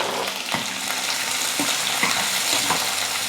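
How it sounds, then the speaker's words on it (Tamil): Finely chopped large onion sautéing in an oiled pan for avarakkai thokku, a steady close sizzle broken by a few scraping stirs of the spoon, no voices. "வெங்காயம் நல்லா வதங்கணும், அந்த அளவுக்கு வதக்கிக்கலாம்."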